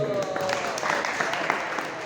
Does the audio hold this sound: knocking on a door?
no